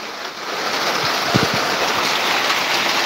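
Rain falls in a steady, dense hiss throughout, with a few soft low thumps in the middle.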